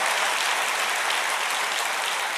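Dense, steady applause from a church congregation fills the whole moment, loud and even from start to finish.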